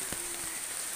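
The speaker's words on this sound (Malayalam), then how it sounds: "നല്ല പെരുമഴ." Heavy rain pours onto a house yard, a dense, constant patter of drops hitting the ground, steady and close with no voices.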